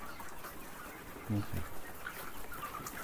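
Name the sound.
ready-to-lay layer chickens in a poultry farm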